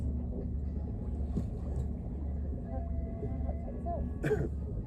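Sailboat under sail near Sidney, British Columbia, a steady low rush of wind and water, with speech-like sounds and a sharp knock near the end.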